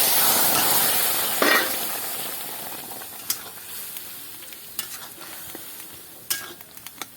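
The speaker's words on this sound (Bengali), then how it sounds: "এইভাবে একটু খুন্তি দিয়ে ঘেটে দেবো" Boiled hog plums are stirred with a spatula in a hot mustard-seed tempering, giving a strong sizzling hiss that fades over several seconds. Sharp scraping clatters of the spatula against the pan break through the sizzle.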